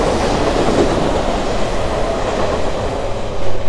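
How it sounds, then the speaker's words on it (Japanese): An Odakyu Romancecar Hakone limited express train passes a station platform, producing a steady, loud rumble of wheels and rail with faint clatter throughout, briefly swelling at the end, with no talk. "ロマンスカー箱根号が通過。"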